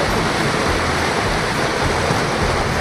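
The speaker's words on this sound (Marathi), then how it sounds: "ह्या बाजूला खालच्या बाजूला किती जातं बघा पाणी वाहतंय." A rain-swollen mountain stream pours down from the hills in a loud, steady rush of water, close by and unbroken, with no voices.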